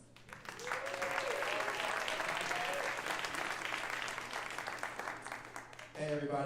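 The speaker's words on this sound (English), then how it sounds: "if you'll welcome him with a round of applause" Audience applause at a local evening gathering, a steady dense wash of clapping from the crowd welcoming a speaker, holding level for about six seconds before a voice begins talking at the end.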